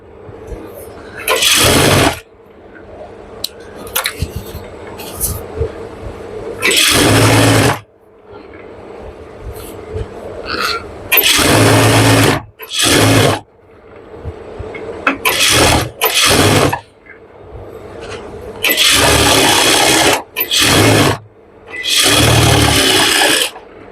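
A sewing machine stitches pajama fabric in loud, close bursts of a few seconds each, with a person talking in the pauses between runs.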